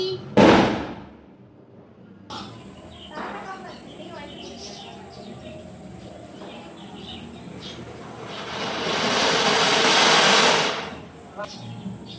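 A sharp burst at the start, then a hissing whoosh that swells and fades as a rocket firework goes up during Deepavali celebrations, with people talking nearby.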